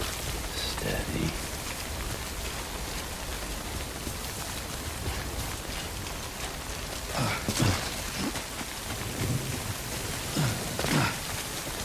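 Steady rain in Death Stranding hisses throughout, with scattered louder splashes and brief swishes rising above the wash.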